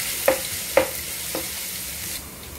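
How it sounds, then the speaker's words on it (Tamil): Small pieces of chopped ginger frying in a pan, a soft steady sizzle broken by two quick spatula scrapes and a fainter third, close and without talk. "ஒரு துண்டு இஞ்சி வந்து சின்னதாக கட் பண்ணி வச்சுருக்கேன் நல்லா ஃப்ரை ஆகட்டும்"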